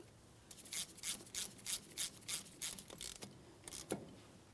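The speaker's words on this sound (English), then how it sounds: "we can start in the banjo bolt and snug it up" Ratchet tightening a brake hose banjo bolt on the rear caliper of a 2007-2014 GMC Sierra 2500 HD, a rapid series of about a dozen close, rasping clicks in short bursts, with no talking.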